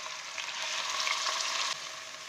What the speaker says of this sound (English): Now fry it for about 5 to 6 minutes until it's lightly brown.